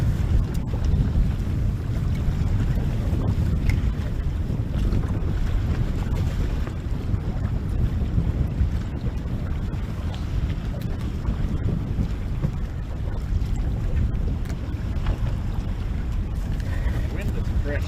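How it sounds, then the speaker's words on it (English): Steady wind rushes and buffets the microphone over open lake water at a walleye fishing tournament on Lake Winnebago, a constant loud roar with faint water and boat noise underneath. "Wind is fresh going for kickoff there"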